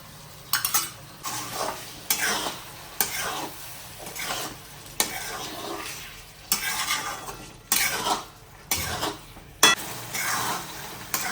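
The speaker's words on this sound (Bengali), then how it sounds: "এবার আমি এর মধ্যে ফেটিয়ে রাখা 4 চামচ টক দই আমি এর মধ্যে মিশিয়ে দিচ্ছি।" Whisked yogurt being stirred into a fried vegetable spice mix for veg biryani, a spoon scraping and clinking against the pan in a steady rhythm over a soft sizzle, close and moderately loud.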